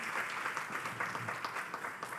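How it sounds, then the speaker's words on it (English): Audience applause for Dr. Philippe at a culture and creative industry forum, short steady clapping from a room of listeners with no voices over it. "Can you kindly give Dr. Philippe an astounding round of applause once again?"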